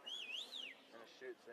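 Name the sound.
whistle blown at rugby scrum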